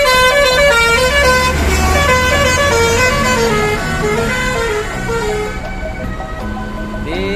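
A Bus Minang NPM coach leaving Kampung Rambutan terminal sounds a loud, sustained, multi-tone horn up close over a rumbling engine, and the horn shifts pitch partway through.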